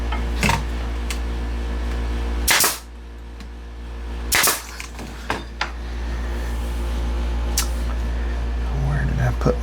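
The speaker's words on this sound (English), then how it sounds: "keep my fingers away from the nail gun" A pneumatic nail gun fires into wood in a woodworking shop, two loud sharp bangs followed by a few smaller clacks, with a steady compressor-like hum running underneath.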